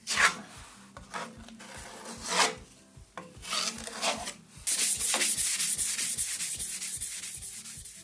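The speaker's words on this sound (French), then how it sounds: "Il faut bien gratter les parties qui sont restées molles à cause de l'humidité." Water-damaged, softened wall plaster is scraped away with a tool in rough, rhythmic strokes, close and fairly loud. The later strokes become a continuous harsh rasping.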